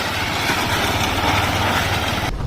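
A motorcycle crosses a bamboo bridge in Kharagpur, West Bengal, its engine running steady and close, a low rumbling putter that holds level throughout with no break.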